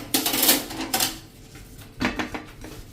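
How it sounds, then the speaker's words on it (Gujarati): Fresh ginger rubbed against a metal hand grater, giving several short scraping rasps in uneven bursts, close and fairly loud, with brief pauses between strokes and no talking. "ખમણીથી આ રીતે ખમણીને પછી એનો રસ કાઢી લેવાનો છે"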